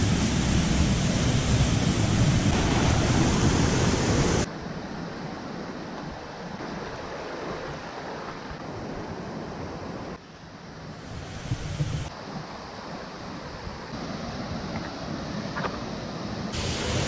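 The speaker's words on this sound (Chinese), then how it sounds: "我们来到瀑布区啊，另一个打卡的地方" A waterfall in a scenic mountain area roars as a steady, loud broadband rush, strongest in the first few seconds, then continuing slightly softer with no talk.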